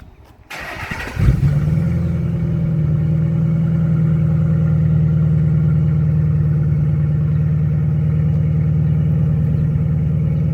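A car with a newly fitted Battle Aero Force 2 66-inch rear wing starts up after a short clatter and settles into a steady, close idle that continues alone as it is driven out of the garage.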